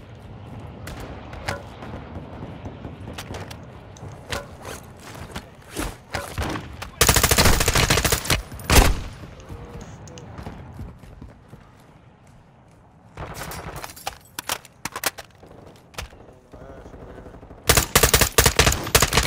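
Bursts of gunfire from Call of Duty Modern Warfare II DMZ, loud clustered volleys and sharp shots scattered across the stretch, with quieter gaps and busy background noise between them.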